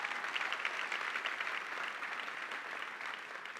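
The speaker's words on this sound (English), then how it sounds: "give them a round of applause" A large summit audience at a product launch keynote applauds in a steady, even wash of clapping heard from some distance, lasting several seconds.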